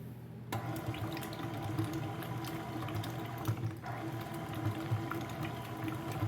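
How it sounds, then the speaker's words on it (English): A stand mixer set to stir blends a cheesy squash casserole, giving a steady, continuous churning whir with faint clinks, running alone without talk. "we're just going to turn the mixer on stir"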